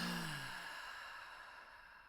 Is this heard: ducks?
no